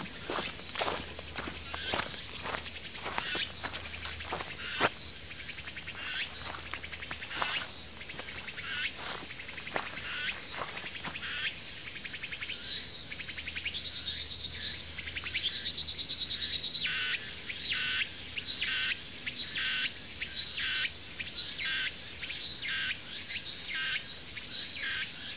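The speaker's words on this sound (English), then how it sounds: "still nice to hear those little cicadas." A continuous shrill buzz of cicadas fills the late-summer air while footsteps crunch steadily and evenly along a hiking trail near Cheonan, South Korea.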